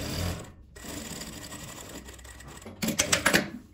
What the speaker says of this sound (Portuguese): De um lado, eu passo a costura fechando tudo.